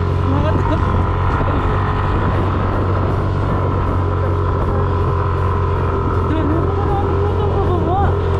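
Motorcycle ridden up a very steep rural road in Sitio Baag, San Jose, Tarlac, with a steady loud engine drone and wind noise throughout, rider's voice faintly mixed in.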